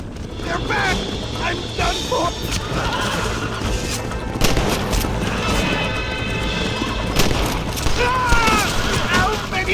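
Gunfire in Red Dead Redemption: sharp shots and crashes spread through a busy, loud battle, mixed with neighing horses, hoofbeats and shouting voices.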